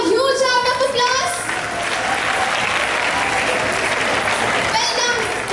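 Audience applause for a children's team in a school English week quiz: a steady burst of clapping from a crowd, with a voice and other voices heard briefly at the start and again near the end.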